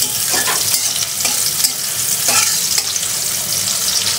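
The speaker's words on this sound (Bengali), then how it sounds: "পেঁয়াজগুলো বেশ একটু বাদামি করে ভাজবো" Onions sizzle steadily in hot oil as they brown for a liver bhuna, with a continuous crackling hiss and occasional scraping stirs, close and fairly loud throughout.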